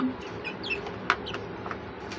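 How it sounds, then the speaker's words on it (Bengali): Chickens cluck softly while feeding on grain, with a few short calls and chirps over a low background. "সাফার এই মুরগিগুলোকে আপনারা তো দেখেছেন কত ছোট ছিল মাসাল্লাহ এভাবে ওরা খেয়ে থাকে"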